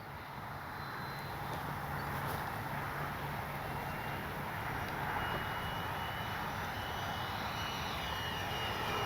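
An FMS Futura 80mm RC jet with gear and flaps down passing low and slow, a steady airy ducted-fan whoosh that holds at moderate distance throughout, with no voices.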